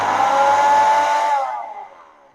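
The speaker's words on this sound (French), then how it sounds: "Lorsque vous avez besoin de mixer pendant juste quelques secondes et avec une vitesse assez rapide, là, vous utilisez la fonctionnalité P." A kitchen blender on its pulse (P) setting gives one short, loud, high whirring burst, then spins down and fades away over about a second.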